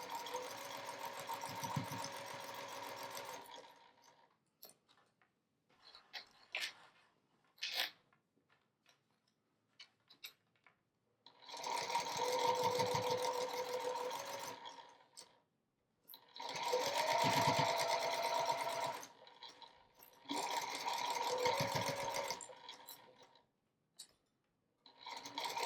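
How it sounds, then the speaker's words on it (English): A sewing machine stitches backing onto a minky blanket in several bursts of steady whirring, close and clear, with quiet pauses and small handling noises between runs. "Now when I sew the backing on, I'm going to sew it using a 1/2 inch seam allowance."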